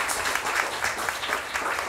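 A Taiwanese volunteer-run free event audience claps steadily in a dense wash of applause, fairly close and sustained throughout with no talk over it.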